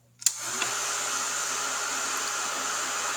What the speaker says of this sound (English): then we're going to run the hairdryer again